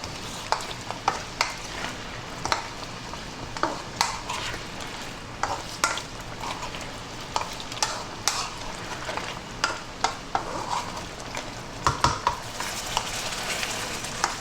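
Pork ribs stir-frying over high heat in soy and oyster sauce, a continuous sizzle broken by frequent sharp clacks and scrapes of a utensil against the pan, close and steady with no voices.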